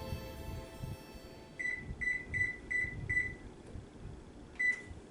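An oven's control panel being set to 325 degrees for baking meatloaf, with a quick series of five short electronic beeps followed by one more beep after a pause, clear against faint room noise.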